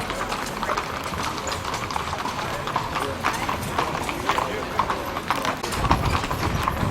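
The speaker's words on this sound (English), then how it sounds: "here we are doing our little horsey jaunt" Horse hooves clip-clop steadily through a horse ride in Scotland, a continuous rhythmic clatter mixed with outdoor ambience while people talk nearby.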